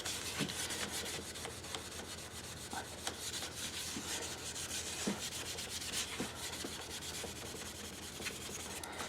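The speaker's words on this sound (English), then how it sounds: "Do a quick buff because I think I've made some scratches that I don't like" Steady dry rubbing on a wooden bowl as it is buffed to take out scratches, a continuous close abrasive swish with faint periodic ticks throughout and no talking.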